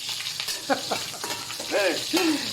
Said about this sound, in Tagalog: Lagyan na natin ang nakakapasong talsik ng mantika. Bawang sibuyas forever na magkasama.